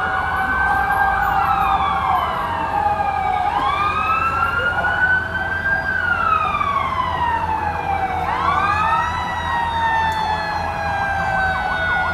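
Several fire truck sirens at a building fire in Sampaloc, Manila wail at once, rising and falling in overlapping sweeps over a steady rumble, loud and continuous throughout.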